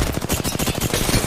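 Rapid automatic gunfire in a tactical shooter game, a dense run of loud shots at a steady fast rhythm with no pauses, filling the whole stretch.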